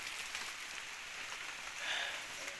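Rain falls steadily on the surroundings outdoors in the countryside, a soft, even hiss of drops at moderate distance, continuous throughout with a slight swell near the end.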